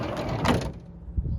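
A van's sliding door, converted from powered to manual operation, rolls and thuds along its track, with a rushing slide in the middle and a low clunk near the end, close and loud.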